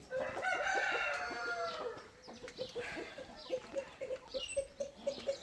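Backyard chickens being fed in a garden: a rooster crows loudly up close, then hens keep up a steady, rhythmic run of clucks.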